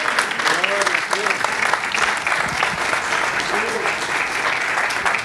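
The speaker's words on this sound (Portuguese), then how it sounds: "Aplauda o Senhor, querido, é para Ele." A church congregation breaks into sustained applause for the Lord at a service in Malden, clapping steady and dense throughout, with a voice speaking over the clapping.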